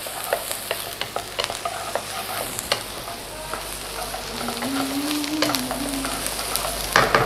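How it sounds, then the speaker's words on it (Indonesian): Ground beef sautéing in a pan for beef empanadas, a steady sizzle and frying hiss broken by frequent scraping stirs, close and fairly loud with no talk. "kita tumis sampai sedikit coklatnya, ini udah mulai coklat"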